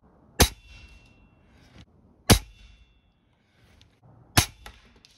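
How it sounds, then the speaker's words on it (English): A BAM B3 gun fires three single, sharp, loud shots close by, evenly spaced about two seconds apart, each with a short ringing tail. "The next gun that we're gonna shoot is this BAM. B3 is what I believe it's called."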